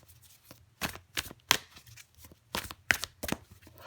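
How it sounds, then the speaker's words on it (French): Tarot cards are handled and one is drawn from the deck, heard as a series of close, crisp card slaps and flicks, with small pauses between them, in a quiet room. "je prends encore une carte pour vous les poissons"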